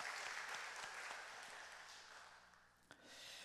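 A church congregation claps together during a Korean praise worship service at Gangjin-eup Church. The steady applause fills the hall, then gradually tapers off with a few scattered claps.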